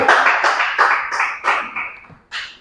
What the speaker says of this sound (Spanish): Dámele un aplauso al Señor.